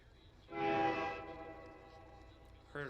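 A train horn played through a phone goal-horn app at an ice hockey game sounds one short, moderately loud blast, faint at first, then fading with quiet background noise and a brief voice at the end.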